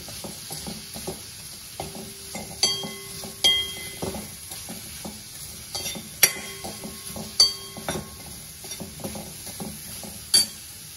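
Mushrooms sauté in oil in a pan for a Maharashtrian mushroom curry: a faint, steady sizzle broken by repeated spoon clinks and scrapes against the metal, close by.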